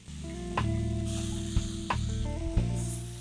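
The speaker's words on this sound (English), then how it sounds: "give it a stir so that those peppers are getting nicely sauteed and they're getting coated with the onion layer" Peppers, sweet corn and onions sauteing in a pan, a steady close sizzle broken by a few soft clacks and scrapes as the vegetables are stirred.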